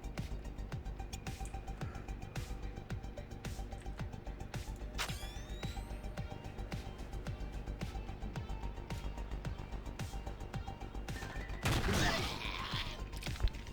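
Enemy gunfire in the video game Stellar Tactics, sounding as a steady run of sharp, evenly spaced shots with a brief louder burst near the end, all fairly quiet.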